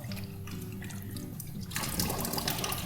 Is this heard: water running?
yes